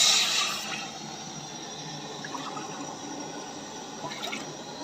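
Water splashes into a pan to make tea, a brief loud gush at the start easing into a steady, softer trickle with faint drips running on alone.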